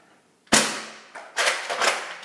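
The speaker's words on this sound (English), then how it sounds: "I'm gonna shoot all 12 darts, even this that's stuck in the stock." An unmodified Nerf blaster fires foam darts, one sharp loud pop followed by a decaying airy whoosh, then a softer second shot and a rapid pair of shots close together, nearby with no talking.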